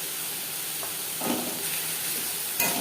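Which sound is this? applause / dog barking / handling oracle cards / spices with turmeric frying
spices with turmeric frying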